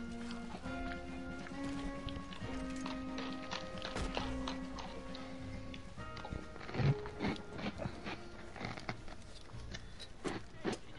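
Horse hooves clip-clop steadily in a video game, a quick rhythmic run of taps at moderate distance over background music, continuing for several seconds.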